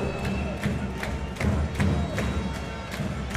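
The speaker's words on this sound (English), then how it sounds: "Clapping, drumming, dancing, jumping, doing everything they can." Ball hockey fans at a World Ball Hockey Championships bronze medal game clap, drum and cheer, a crowd roar punctuated by regular rhythmic drum thumps and claps, loud and sustained.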